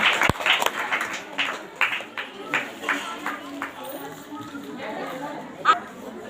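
A Sunday prayer-meeting congregation gives scattered, uneven applause in a church hall, with people talking loudly over the clapping throughout.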